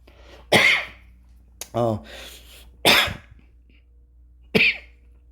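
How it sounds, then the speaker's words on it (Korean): A man lecturing on Korean history coughs three times, sharp and close, spaced a second or two apart, with a brief throat-clearing grunt between them, in an otherwise quiet room. "조금 기침이 있어도 살짝 이해해 주길 바래"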